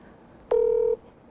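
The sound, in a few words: telephone dialing a call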